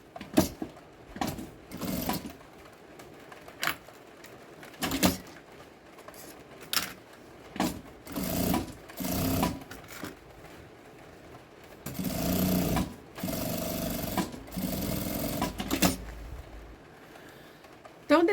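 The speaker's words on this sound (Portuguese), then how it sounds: "E vou passar uma costurinha aqui, rebatendo." A sewing machine topstitches a lining seam in short bursts of stitching separated by pauses, with longer runs near the end, close and fairly loud.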